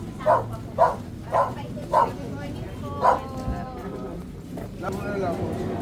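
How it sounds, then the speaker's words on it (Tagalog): A dog barks about five times in a quick, uneven series, close and loud, then stops while voices talk over a low background. "May aso dyan."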